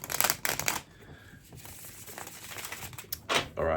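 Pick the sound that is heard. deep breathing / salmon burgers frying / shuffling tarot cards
shuffling tarot cards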